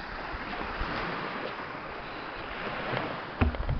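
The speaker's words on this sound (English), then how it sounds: "waves have been coming up also next to this very small dock" Ocean waves wash in beside a very small dock on an eroding sandy beach, a steady broad surf wash with wind noise throughout and a brief louder thump near the end.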